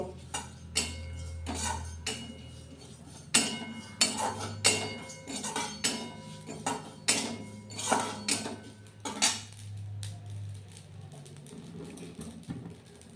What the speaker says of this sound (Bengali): ড্রাই রোস্ট একটু শুকনো খোলায় ভেজে নিচ্ছি